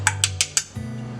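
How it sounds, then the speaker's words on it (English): Four quick metallic taps as eggs are cracked and dropped into a pan for an omelette, followed by a soft sizzle as they land, close and fairly quiet. "let's go ahead and drop our eggs up in there"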